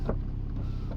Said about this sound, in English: Windows, electric windows, working both sides.